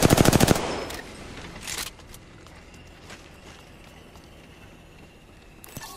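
Loud rapid automatic gunfire bursts from the video game Apex Legends open the clip for about half a second, followed by a quieter burst near two seconds and scattered faint shots and footsteps afterward.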